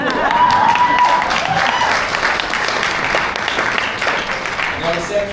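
Audience applause fills a large hall at a real estate keynote rally, a dense, steady wash of clapping that fades slightly toward the end, with a tone and voices audible underneath.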